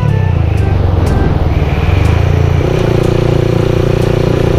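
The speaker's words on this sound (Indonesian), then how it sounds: "punya motor yang suaranya besar kayak motor gua ini" A loud sport motorcycle rides through city streets at midnight, its engine droning steadily and close with rumbling exhaust, shifting pitch partway through, with no talking.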